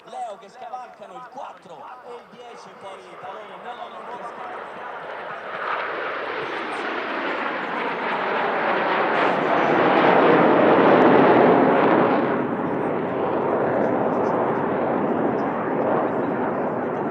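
Italian Air Force aerobatic jet formation pulling into a loop at an airshow: a deep jet roar swells over several seconds to a loud, broad peak, then holds as a sustained rumble, with a commentator's voice heard over the start.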